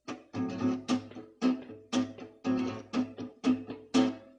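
Guitar strings strummed in a steady rhythm, alternating full struck chords with light muted touches on the beat, about eight evenly spaced strokes close up and alone.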